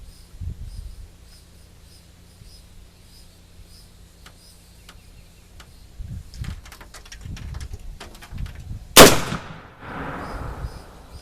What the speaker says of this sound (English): Now this is shot number 3 with 80 grains of FFG.